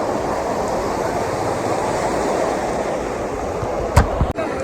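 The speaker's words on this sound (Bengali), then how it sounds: "এত সুন্দর বাতাস, এত সুন্দর ঢেউ" Steady ocean surf and wind on Cox's Bazar beach make a continuous broad rushing wash, with a couple of brief knocks and a thump near the end.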